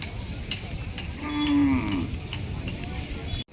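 A single loud moo from cattle at a village bull market where farmers bring bullocks for sale, rising mid-clip over steady crowd murmur and background chatter.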